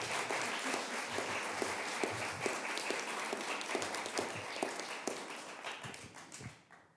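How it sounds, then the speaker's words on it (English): Audience applause at a bill-signing ceremony honoring adult survivor advocates, a steady wash of many hands clapping that holds loud and even, then thins and fades near the end. "So let's give them a round of applause here today."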